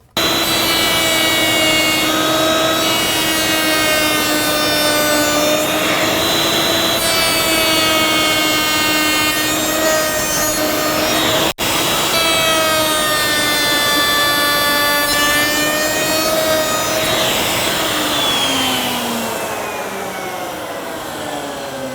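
A table-mounted router cuts a profile into MDF with a loud, sustained high-pitched whine and rich harmonic tone, briefly interrupted once, with the pitch sagging and shifting near the end as the cut finishes.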